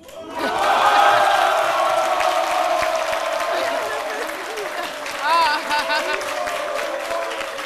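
A crowded audience at a French midday beauty show, where a shaving segment has just wrapped up, bursts into loud applause and cheering that peaks early, then eases off to a sustained clatter while a voice talks over it.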